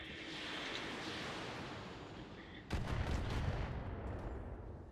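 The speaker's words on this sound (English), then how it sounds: "Incoming long-range missile fire." Long-range missile fire in the mech video game Roguetech starts as a steady distant roar, then a heavy rumbling barrage of impacts hits and keeps rolling.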